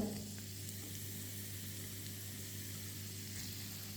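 Garlic and spring onion stalks sizzle in hot oil with a steady, bright frying hiss after an initial splash, continuing evenly and close by for the whole stretch.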